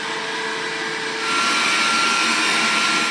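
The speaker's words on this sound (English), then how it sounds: "Noise levels vary between 57 and 70 decibels depending on the selected mode." Dreame D9 Max Gen 2 robot vacuum running with a steady broadband whooshing roar, close and loud, stepping up slightly in intensity partway through.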